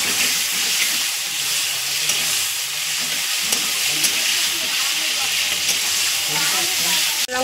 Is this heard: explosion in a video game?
no